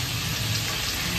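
Onion hits hot white oil in a wok with a dense, steady hiss of frying that fills the short moment evenly, close and moderately loud, with no talking.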